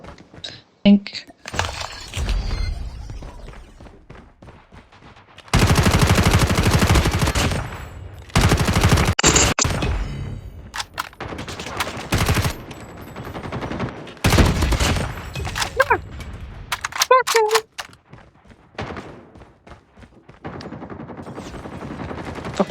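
Gunfire in the COD Mobile video game, with dense automatic bursts and single shots overlapping and repeating at close range, mixed with game effects.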